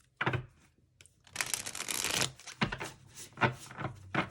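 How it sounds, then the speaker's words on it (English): Playing cards riffle and flutter in short bursts, a soft close crackle followed by several quick taps and snaps. "I don't really want to do the full bridge shuffle on these."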